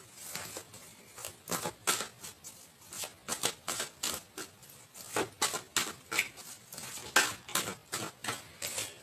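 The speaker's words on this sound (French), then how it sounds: "Alors attends, je reprends les cartes et on va reprendre pour avoir un peu plus d'éléments." Tarot cards are shuffled by hand in a steady run of quick, papery riffles and flicks, close and moderately quiet, with no talking.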